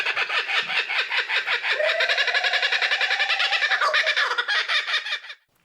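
A dense, loud chorus of birds calls nonstop at a lodge on Australia's Sunshine Coast, with rapid overlapping squawks and chatter that fill the air for several seconds and then cut off abruptly.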